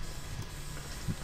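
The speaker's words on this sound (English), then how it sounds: "spray can hiss" A spray can hisses in the video game Left 4 Dead 2. The steady, broad hiss runs for the whole moment at an even, fairly quiet level, with no voices over it.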